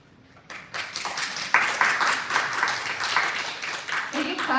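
Audience clapping at a county school board meeting, starting after a quiet moment and building into steady applause of moderate loudness that carries on for several seconds with some voices beneath.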